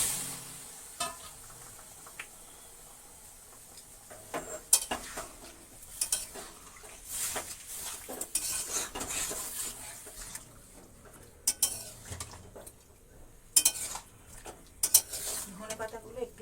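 Half-boiled potatoes tipped into spices frying in oil, along with their cooking water, for Bengali aloo dum: a low sizzle under clattering pot and spoon knocks, with scraping stirs that come in bursts and a faint voice now and then.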